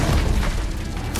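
A cast of the Incendio fire spell in Hogwarts Legacy: a steady, loud fiery roar with a deep rumbling low end, ending in a short bright burst.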